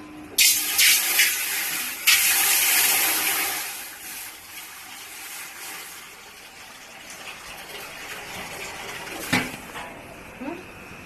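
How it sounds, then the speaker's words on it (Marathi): Water gushes into a heated pot while making wheat kurdai, a loud broad pour that runs for a few seconds, tapers off and leaves a quieter wash with a few faint clinks. "आता जेवढं चीक आहे तेवढंच पाणी टाकायचंय"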